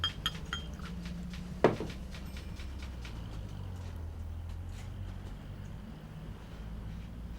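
Glasses strike together in a single sharp clink after a toast, standing out briefly over a quiet room hum, followed by faint background noise and a few small knocks.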